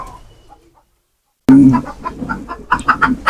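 Chickens cluck inside a chicken coop where pigeons are also kept, a sudden loud burst of close, rapid clucking after a quiet start.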